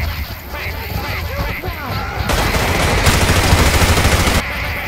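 Rapid gunfire in Left 4 Dead 2, dense bursts of shots that grow louder and more continuous midway, with game noise and players talking throughout.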